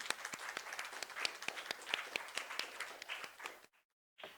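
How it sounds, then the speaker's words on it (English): Audience applause for a poet at a poetry café, a dense burst of many hands clapping close by that runs steadily for several seconds and then cuts off abruptly. "A huge round of applause for Ms."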